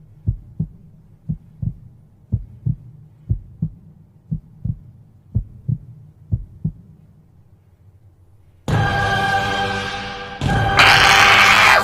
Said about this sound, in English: Do you hear a heartbeat?